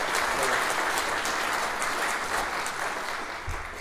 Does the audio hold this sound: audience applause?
yes